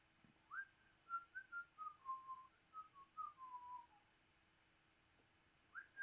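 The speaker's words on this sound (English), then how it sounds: "Don't know why I'm whistling." A lone person whistles a soft, wandering tune of sliding notes, fairly quiet and close, with a short pause before a final note.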